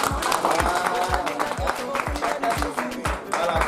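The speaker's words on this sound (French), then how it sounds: "je pense qu'on va applaudir pour elle." Applause from a small crowd at a shop inauguration ceremony in a Lambandji market, lively handclapping mixed with crowd chatter and a rhythmic low thumping beat underneath, moderately loud throughout.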